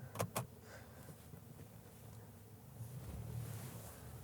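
Mercedes-Benz C350e hybrid car running on its petrol engine while driving, a steady low rumble with road and wind noise, a couple of brief knocks near the start, and the engine note swelling slightly toward the end.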